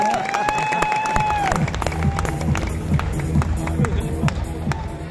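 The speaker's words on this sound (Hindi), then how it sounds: "इनके लिए भी जोरदार तालियां" Applause and clapping from an audience in Thyagraj Stadium, steady dense hand claps with crowd noise throughout, after a whistle-like tone early on and with a voice faintly audible underneath.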